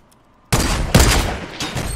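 A sudden loud burst of video game gunfire erupts from silence, a dense volley of shots firing at a ramp with a sharp extra crack partway through.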